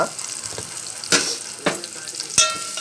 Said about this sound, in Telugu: పసుపు ఇట్లా కలిపేసుకోవాలి